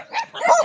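A household dog gives a quick, close yelping bark, two short bursts in under a second, greeting visitors at home.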